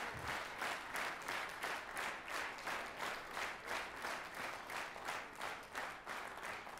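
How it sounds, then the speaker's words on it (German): Dense, steady applause from a concert audience after a musical performance, many hands clapping continuously with slight rhythmic pulsing, loud and close, without speech. "Zugabe wurde eben schon gerufen, es wurde im Takt geklatscht"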